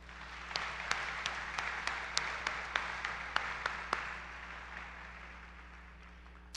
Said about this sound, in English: Graduates, please take a moment to show your appreciation for all of their support by giving them a round of applause.